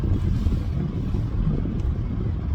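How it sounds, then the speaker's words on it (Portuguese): Strong wind blows outdoors at night in Palhoça as the weather turns, heard as a steady, loud, rumbling wind roar buffeting the microphone for the whole stretch, with no voices. "o tempo fechou aqui em Palhoça, vento forte"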